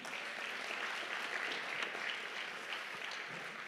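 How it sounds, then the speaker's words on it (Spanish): Congregation applause in church during a Bible conference at the H 21 church in Santa Cruz, an even, sustained round of clapping from many hands throughout, with no talking over it. "Un aplauso más para el Señor."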